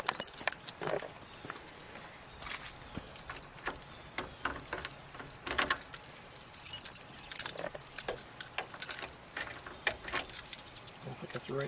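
Car keys jangle and clink close by in irregular bursts while someone searches for the trunk key, with soft handling knocks between and faint voices underneath.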